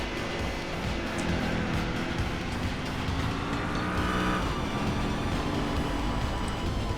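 A Plymouth Superbird engine in Gran Turismo 4 roars continuously at high revs in 4th gear, its loud steady tone climbing in pitch and then flattening out as it runs out of gear.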